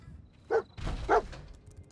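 A dog in the video game Fallout 4 gives two short barks about half a second apart, close and clear over a low background hum.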